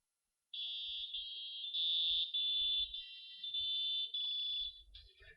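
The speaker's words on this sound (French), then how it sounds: "on entendra le résultat, puisque ici le microcontrôleur est relié à un buzzer" Buzzer driven by an Arduino microcontroller plays a run of clear, shrill electronic tones, each a sustained beep with small steps in pitch, heard alone in silence.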